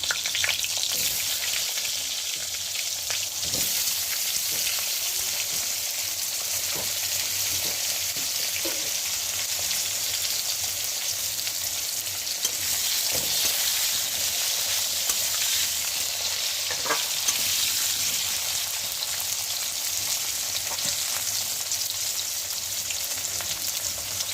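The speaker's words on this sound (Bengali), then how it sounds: "ডুমো ডুমো করে আমি আলু কেটে রেখেছিলাম, সেটা আমি এখন দিয়ে দিচ্ছি তেলের মধ্যে।" Diced potatoes fry in hot oil tempered with whole cumin and bay leaf, a steady loud sizzle running throughout with occasional sharper crackles and stirring clinks, no talk.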